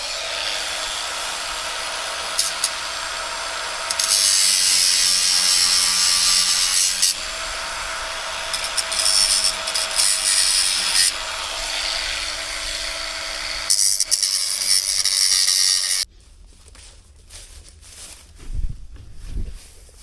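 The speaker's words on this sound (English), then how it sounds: "I'll grab my grinder real quick." A handheld angle grinder grinds a burr off metal during tree-clearing work with a John Deere 690C, a loud, steady high-pitched whine for about fifteen seconds with brief dips, then cutting out to quieter clunks and handling sounds.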